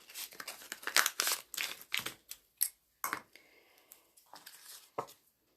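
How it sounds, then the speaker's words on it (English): Paper card for a treat box cut with scissors along score lines: a run of crisp snips and crinkles, close and fairly quiet, thinning out into a few isolated cuts near the end. "And then we're just going to cut up the score lines."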